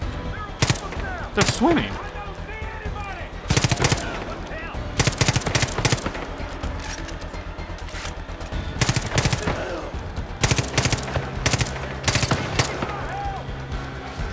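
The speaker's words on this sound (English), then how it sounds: "This is a close-range SMG, so I probably shouldn't use it to snipe" Rapid close-range SMG bursts in Far Cry 5, repeated loud volleys of gunfire in short stutters over a noisy battlefield, with someone talking between the shots.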